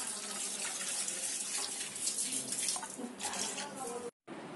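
Water splashes and pours steadily into a pot of beans being cooked for poriyal, a continuous gushing noise that cuts out for a moment near the end.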